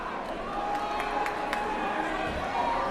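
Basketball crowd at a high school game between the SKHS Wolves and Puyallup Vikings, a steady dense roar of many voices with a few sharp claps or shouts, sustained throughout as fans try to rattle the shooter.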